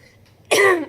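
One short, harsh cough bursts out close to the mic after a moment of near silence, from a person whose throat is sore after a long coughing fit.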